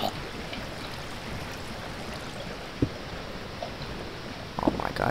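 Flowing water in the Minecraft video game, a steady soft rushing wash that fills the whole stretch, with a couple of brief clicks and a short burst of other noise near the end.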